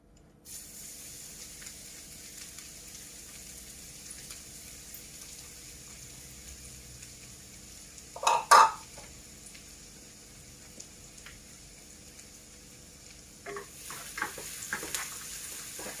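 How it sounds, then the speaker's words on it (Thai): Garlic stir-fried in sesame oil left over from frying ginger gives a faint, steady sizzle, broken midway by a short loud burst as ingredients hit the pan, then stirring scrapes near the end. "ใส่กระเทียมลงไปผัดเนาะ"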